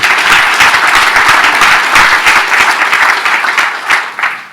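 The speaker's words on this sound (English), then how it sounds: "a round of applause for Konstantinos Giannoudis" Loud, close audience applause at a memorial tribute event, a dense burst of many hands clapping that holds steady and then begins to thin out toward the end.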